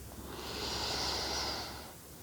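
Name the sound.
breathing in deeply during meditation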